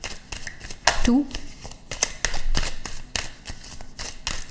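Tarot cards shuffled and pulled during a reading, giving quick crisp riffles and flicks in a steady irregular rhythm, close and clear while a person talks over them.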